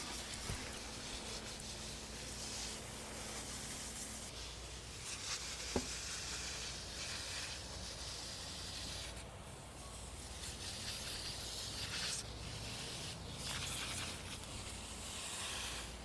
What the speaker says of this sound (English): You want to cover the plants in your spray.